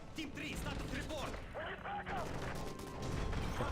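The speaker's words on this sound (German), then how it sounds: "That's gunfire!" Gunfire in the video game Modern Warfare 3, sharp shots and impacts under overlapping shouting voices and tense game dialogue.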